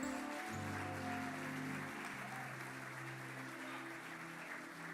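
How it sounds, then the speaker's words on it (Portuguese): Congregation applause at a church service, a steady broad wash of clapping over sustained organ or keyboard tones throughout. "Você pode dar um aplauso ao Senhor?"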